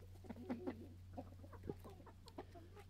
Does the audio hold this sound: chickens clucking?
yes